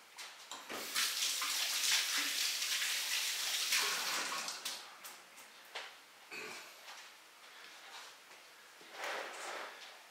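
Hands are washed under a running kitchen tap, with a steady close splash of water for several seconds, then intermittent softer splashes and rinsing as the flow is worked over the hands.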